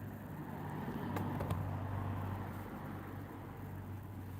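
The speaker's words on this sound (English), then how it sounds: "Droning sounds of cars in the distance." Low, steady drone of car traffic in the distance, a continuous rumble that swells slightly and then settles, with no voices.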